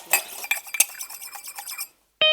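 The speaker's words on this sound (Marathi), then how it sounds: "तुमच्या बायकोला सांगा हळू भांडी घासायला, माझे कान दुखतायत" Dishes, pots and pans being scrubbed and washed, a close, busy run of metallic clinks and clatters with a few sharp knocks, briefly stopping before another bright clang rings out.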